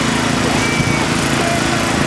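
A 1976 International Harvester tractor engine runs steadily and loud in a tractor parade, a continuous throbbing drone with no break and no talk over it.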